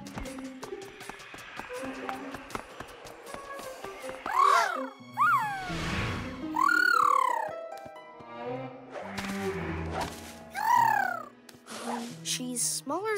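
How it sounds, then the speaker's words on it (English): Several cat meows rise and fall in short bursts, fairly close, amid clicking and rustling noises and a voice speaking. "Hear that? The bad cat is close."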